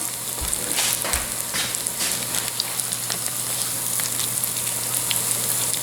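Parsnip patties frying in a pan, a steady close sizzle and crackle of hot fat with scattered pops throughout, no talking.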